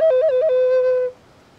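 A musical instrument played in a music session in the woods, imitating a cooing pigeon: a clear, close tone that wavers between two pitches a few times, then holds one steady note for about a second before stopping.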